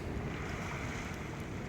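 Sea waves and wind at Diu Fort, a sea fort built in 1761, form a dense, steady roar of surf and gusting wind buffeting the microphone, with no voices.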